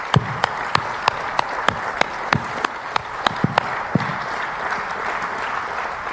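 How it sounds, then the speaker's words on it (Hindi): Meeting attendees rise for a standing ovation, giving a burst of crisp, close hand claps with distinct sharp individual slaps standing out over a dense clapping bed. "खड़े होकर सभी ने तालियां बजाई जोरदार"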